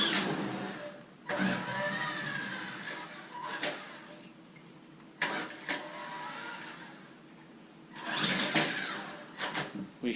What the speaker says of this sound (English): So I'm not using much throttle there to pull a reasonable wheelie.